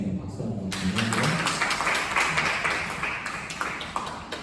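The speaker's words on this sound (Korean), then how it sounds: "박수 한번 주시고요" Applause during a church service: a congregation claps in a steady, dense patter that follows a short stretch of voice and fades slightly toward the end.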